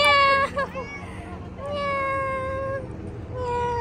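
A cat meows repeatedly and up close, with long drawn-out cries and short pauses in between, while people talk in the background.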